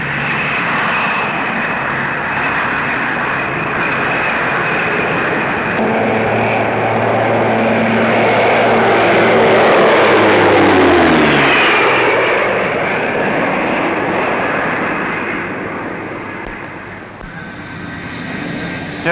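An Armstrong Whitworth Apollo turboprop airliner flies past at the Farnborough airshow, its engines droning loud and steady, swelling as it passes overhead and then easing away, with the roar filling the whole stretch.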